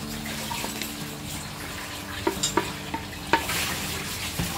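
Fried paneer pieces are stirred into hot ghee masala, a steady sizzle with wet scraping and occasional spoon knocks against the pan, close and continuous.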